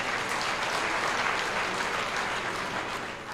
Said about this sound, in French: Applaudissez pour le professeur Mamadou Badou Niang